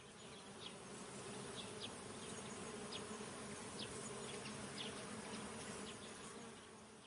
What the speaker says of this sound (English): I think the bees suspect something.